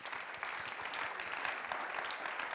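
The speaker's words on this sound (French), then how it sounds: "Encore une fois, on les applaudit bien fort." Distant audience applause fills a hall at a regional conference on ecological transition, a faint but steady, even patter of many hands clapping with no talk over it.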